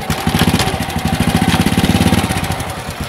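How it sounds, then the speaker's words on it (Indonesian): A motorcycle with a standard carburettor being tuned: the engine catches and settles into a steady, rapid idle putt, loud and close for about three seconds with no talk. "Buat menghidupkan motor."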